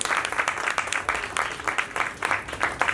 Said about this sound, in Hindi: एक बार जोरदार तालियां भाई अशोक भारद्वाज जी के लिए।